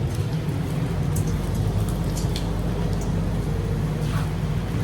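Steady rain pours down continuously on a New Year's night in Tajikistan, a dense hiss of drops striking surfaces with a low rumble underneath and a few brighter patters standing out.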